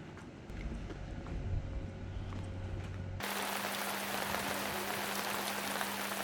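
Steady heavy rain pours down on a shopping street in Cappadocia, Turkey, in a dense, continuous hiss, shifting partway through to a louder, brighter wash with a low hum beneath.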